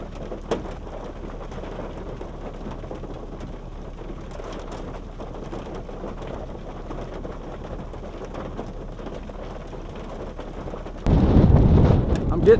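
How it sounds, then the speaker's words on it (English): Hail pelting down during a violent tornado storm near Geneseo, Kansas, first under steady rumbling wind and occasional speech, then bursting into a loud, dense clatter over the final second or two. "I'm getting doinked by hail, man"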